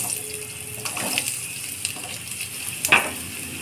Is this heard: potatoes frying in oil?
yes